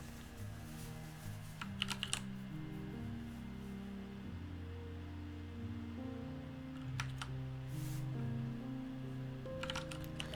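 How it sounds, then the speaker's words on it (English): Short bursts of clattering computer-keyboard typing occur during C programming work, spaced several seconds apart over a steady tonal background hum. "the point is to cut out because I'm typing"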